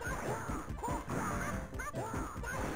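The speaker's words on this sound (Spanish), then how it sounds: "mira cómo se va rompiendo el palacio" Crashing, smashing rumbles from a crumbling palace breaking apart in the Dragon Ball Z arcade fighting game by Banpresto, repeating in loud waves mixed with chirpy electronic game effects.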